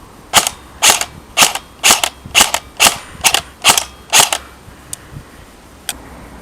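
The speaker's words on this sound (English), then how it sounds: "Now full auto. Just give you a shot of the trigger response on this." KWA M4A1 airsoft rifle with a stock 8.4 volt battery and stock motor, about nine sharp, evenly spaced snapping shots in quick succession, then two fainter isolated clicks, close and loud.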